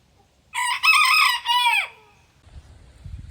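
A rooster crows once, loud and near, with a long rising-and-falling cock-a-doodle-doo, then fades to faint scuffling in a quiet setting.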